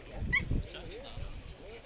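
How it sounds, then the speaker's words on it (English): Dogs barking at a classic car show: several short, fairly close barks and yips come in quick bursts, with people talking at the same time. "Barking dogs."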